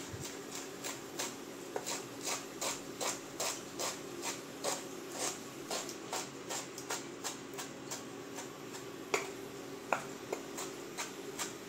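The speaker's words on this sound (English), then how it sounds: "let's cut the herbs." A knife chops herbs for tomato sauce on a board in quick, regular strokes, a close, crisp run of about two dozen even taps that stays fairly quiet, with no talking.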